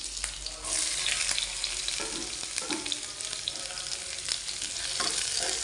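Shallots, ginger, garlic and curry leaves sautéing in oil as the base for a fish curry, a continuous close sizzle with scraping stirs and light clinks, no voices.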